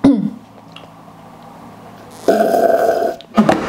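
A single loud, close burp stretches out for about a second, followed by a brief squishy mouth noise.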